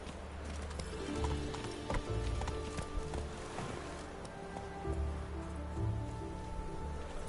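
Roach the horse gallops in The Witcher 3 with rhythmic hoofbeats over a soft, rain-like wash, with brief tonal game sounds scattered through.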